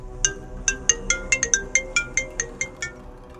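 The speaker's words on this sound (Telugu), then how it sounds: "అప్పుడే జేబులో ఉన్న దిలీప్ ఫోన్ రింగ్ అయింది" A mobile phone rings in someone's pocket, a bright repeating ringtone of about fourteen quick, evenly spaced electronic tones, moderately loud over a faint low background hum.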